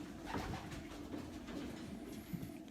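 Racing pigeons coo steadily inside a loft, a dense overlapping murmur of several birds close by with repeated soft throaty pulses throughout, no talking.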